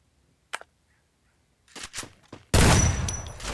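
Mac 10 submachine gun fire in a video game: a few isolated clicks, then a loud sustained burst of rapid automatic shots to the end.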